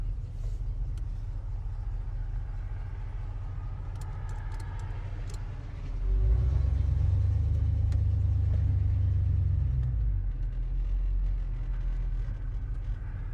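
A 1969 Chevy Caprice with stock exhaust rumbles along with a low, steady engine drone that swells noticeably partway through and then eases, with faint light clicks and rattles over the road noise.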